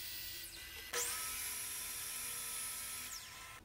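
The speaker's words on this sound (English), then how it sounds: "I started the build by breaking down the ash boards that would make up the tops on the miter saw." A miter saw slices through ash boards in a workshop, the blade spinning up with a sharp onset, holding a steady high whine through the cut, then winding down; close and fairly quiet overall.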